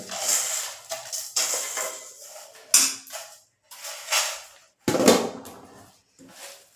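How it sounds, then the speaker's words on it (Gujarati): Fried edible gum (gond) tipped into a ginger-powder mixture in a metal pan for gond pak, with close clattering, scraping and metallic knocks in irregular bursts separated by short pauses. "તો જે આપણે તળેલો ગુંદર હતો તે હવે આમાં એડ કરી લેશું."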